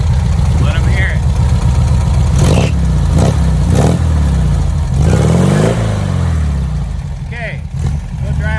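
A 1979 dune buggy engine runs close by with a low, throbbing idle and several short revs rising and falling. Background voices are heard briefly over it.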